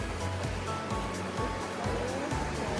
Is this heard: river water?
yes